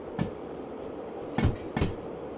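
A video-game train with long passenger wagons rolls along, a steady low rumble broken by three sharp clattering wheel knocks, fairly close and without voices.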